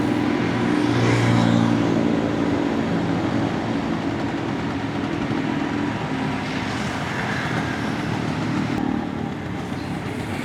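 A small 1972 Vespa Super scooter engine runs loud and close, its rasping drone swelling as it revs, then holding steady at high pitch.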